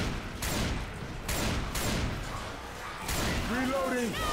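Rifle gunfire in Left 4 Dead 2, a few loud broadband bursts near the start and again after three seconds, over continuous game noise, with a voice speaking briefly near the end.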